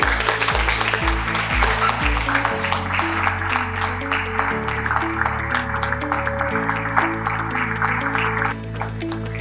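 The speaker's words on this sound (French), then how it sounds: "Je vous demande une minute d'applaudissement." Clapping from a municipal council meeting's attendees, sustained for several seconds over loud music with a deep, stepping bass line.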